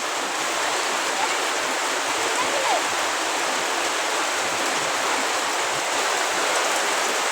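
Heavy rain falls without letup, a dense, even hiss of water close around, with no break across the whole stretch.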